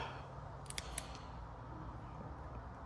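Scissors cutting a shoe insole, a few quiet crisp snips in a quick cluster followed by faint scattered clicks over low room hum.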